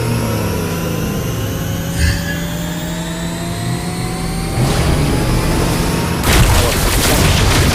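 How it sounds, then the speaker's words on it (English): An in-game turret is destroyed in a video game, heard as a sharp boom and crash amid continuous game effects, with louder impact bursts partway through and toward the end. "Our turret has been destroyed."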